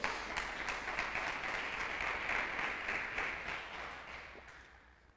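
A church congregation applauds in praise, a dense, steady patter of clapping that holds evenly for several seconds before tapering off toward the end, with no voices over it.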